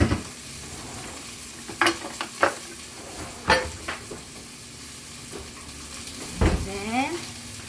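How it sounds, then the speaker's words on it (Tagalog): Onion and garlic sizzling in a pan while being stirred, a soft continuous fry under occasional scraping clatters of the utensil against the pan. "of course, you want to stir the onion and garlic"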